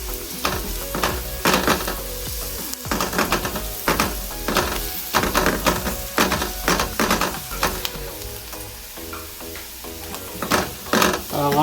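Spices sizzling loudly in a frying pan for chicken pastil, with a spoon scraping and stirring in repeated strokes over a constant hiss, close and without talking.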